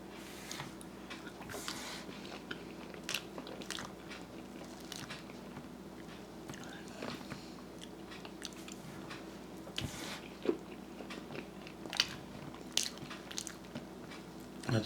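Someone eats coconut cream meringue pie, with soft bites and crunches of crust scattered through a quiet room over a low steady background hum.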